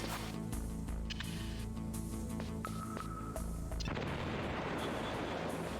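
A C4 charge set against a wall detonates in Metal Gear Solid, a single deep blast after a stretch of low droning game music, followed by a rumbling, crackling decay.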